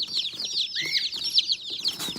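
Cornish meat chicks just arrived in a brooder cheep and cluck continuously, many high peeping calls overlapping close by with no pause.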